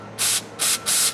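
Brake cleaner is sprayed through a hole in a 1984 Honda ATC 200M carburetor in three loud, close hissing bursts separated by short pauses.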